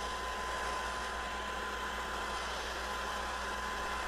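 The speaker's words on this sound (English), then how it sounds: "This is the main reason why I decided to purchase this cordless sweeper in the first place." A Black & Decker LSWV36 40V MAX cordless handheld sweeper blower runs at a steady, close, loud whine with an even airy rush throughout.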